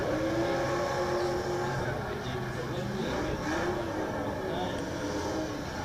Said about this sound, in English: warming the tyres on this Nissan 350Z.